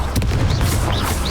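A loud Expulso explosion spell blasts in the Hogwarts Legacy video game, a deep rumbling boom that fills the moment with sustained low roar and brief airy whooshes over it.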